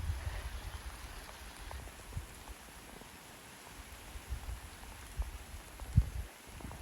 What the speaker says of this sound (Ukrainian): А дощ ось який.